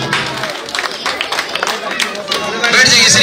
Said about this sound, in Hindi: जोरदार तालियों से अभिनंदन और स्वागत।